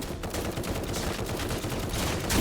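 A 40-round gun in a Squid Game video game fires in dense, fast, loud bursts, close and continuous with no gaps.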